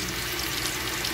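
Cooking oil bubbles and sizzles steadily in a pan as it heats for frying meatballs, a continuous close crackle with no talk.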